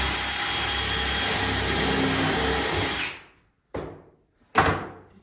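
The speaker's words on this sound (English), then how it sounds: "I'm just going to put 1 pocket screw in each of these since they're so small." A power drill drives a pocket screw into wood for a small acoustic panel frame: a steady whir for about three seconds, then two short trigger bursts to seat the screw, close and loud.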